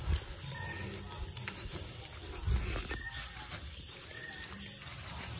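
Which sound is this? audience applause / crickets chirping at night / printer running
crickets chirping at night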